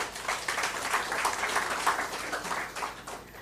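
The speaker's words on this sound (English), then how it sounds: "Can we have a huge round of applause," Steady applause from an audience, a dense patter of many hands clapping at moderate distance.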